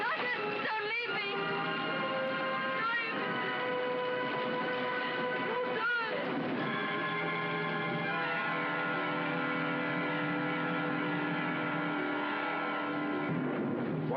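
Train pulling out of a station in a 1944 film, a dense rumbling mix of engine noise and drawn-out tonal whistling or squealing that builds and sustains throughout, with no voices.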